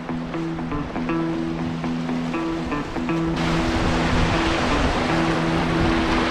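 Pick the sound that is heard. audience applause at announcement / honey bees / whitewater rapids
whitewater rapids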